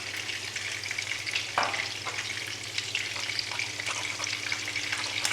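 A pan of sauce bubbles and sizzles steadily at close range, with a soft clink partway through.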